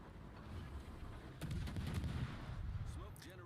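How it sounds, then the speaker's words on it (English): Naval guns on an American tier 10 Somers destroyer firing in the game World of Warships, a few distant booms and a rumbling salvo over faint background noise. "Bit on the ballsy side opening up with guns here and getting yourself spotted."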